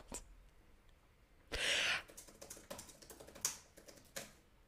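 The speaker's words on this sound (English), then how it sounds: "I type fast." Rapid clicks from a computer keyboard under fast typing, with a few louder clustered bursts and one brief breathy noise, all close and fairly quiet.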